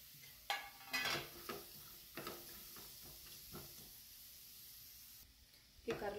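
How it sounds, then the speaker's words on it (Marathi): Bitter gourd roasts in a pan, giving faint sizzling beneath intermittent close scrapes and clinks of a utensil against the pan in short bursts. No one speaks. "हे कारलं आता आपण भाजून घेऊया।"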